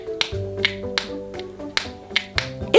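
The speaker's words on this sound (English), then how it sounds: "if we squeeze it, it makes a snapping sound" Pink, blue, yellow and white fidget snapper toy squeezed by hand, giving sharp, close snapping clicks at irregular intervals, about eight in quick succession, with faint tapping between.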